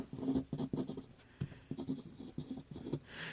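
A Wing Sung 235 vintage fountain pen with an extra-fine nib scratches across paper in short, rhythmic strokes with brief pauses, quiet and very close.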